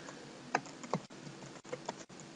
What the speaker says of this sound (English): I'm just gonna type.